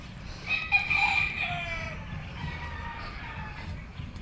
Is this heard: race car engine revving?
no